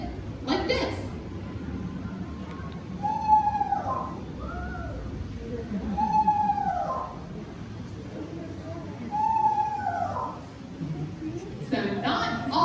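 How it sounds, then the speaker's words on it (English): A screech owl gives three wavering, descending whistles like a soft horse whinny, evenly spaced at moderate distance, with a presenter's voice and crowd murmur underneath at an outdoor bird show. "they make more of a wavering whistle. That to me sounds a bit like a horse whinny."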